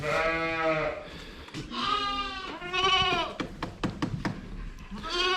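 Several goats bleat close by in quick succession, wavering cries overlapping and alternating, with a few short sharp calls near the end.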